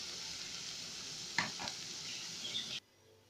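Minced-meat kofta dropped into a hot pan of cooked-down vegetables, hissing in a steady close sizzle with a couple of brief stirring scrapes before the sound cuts off.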